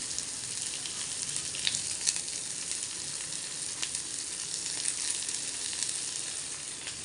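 Chopped onion sautéing in hot oil with cumin seeds and cashew nuts: a steady, close, dense sizzle and crackle running throughout, with occasional faint stirring scrapes and no voices.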